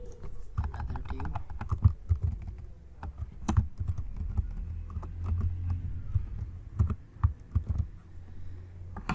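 Code being typed into Visual Studio Code on a computer keyboard for an HTML, CSS and JavaScript weather app: uneven runs of close, soft key clicks and thocks with short pauses, over a quiet room hum.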